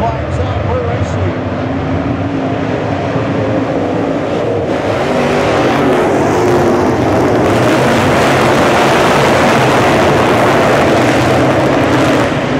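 Dirt late model race cars roaring as the field takes the green flag at Bubba Raceway Park, a dense continuous engine drone at loud level throughout, with a commentator talking over it.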